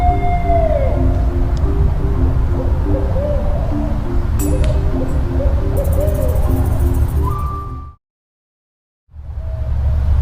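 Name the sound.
owl hooting in a stop-motion movie soundtrack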